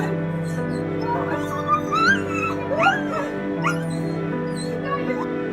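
A dog whimpering and giving high yips in excitement at reunion with its owner, rising and falling cries over a steady hum, with voices present.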